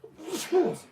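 A single sharp sneeze at close range inside a talk-show conversation, a brief burst rising quickly and then fading, with voices around it.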